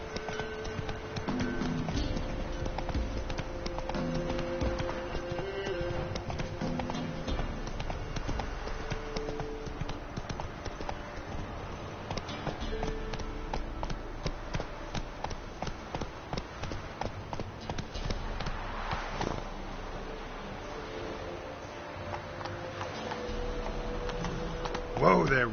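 Hoofbeats of the horse Roach galloping steadily in a PS4 video game, a continuous rhythmic clip-clop under game music and ambience, with a brief surge of louder beats near the end.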